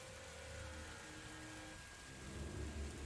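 A heavy downpour with rolling low thunder plays as ambience in a tabletop role-playing game session, dense and continuous, swelling louder toward the end without speech.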